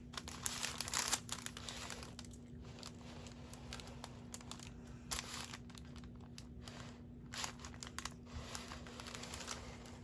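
Backing is peeled off a sticker while crafting teacher gifts, giving faint, close crinkling and brief tearing rustles in short bursts separated by quiet gaps.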